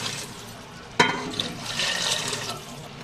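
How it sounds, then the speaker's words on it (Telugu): Water pours into a cooking pot for rice being made alongside chicken curry, starting with a sudden splash and then a steady gushing stream that lasts a couple of seconds before easing off. "దాంతో వాటర్ వేసుకోవడమే."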